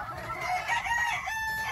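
Polish and Silkie hens cluck and call in a winter coop, a brief burst of close, overlapping fowl vocalizations with a crow-like tone.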